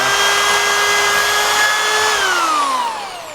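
A cordless power drill whines steadily at high speed as it bores through a wooden board during a catapult build. The sound is loud and close, and the pitch drops as the motor winds down at the end.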